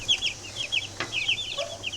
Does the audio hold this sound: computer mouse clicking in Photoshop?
no